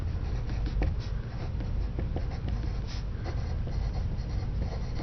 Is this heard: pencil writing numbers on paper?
yes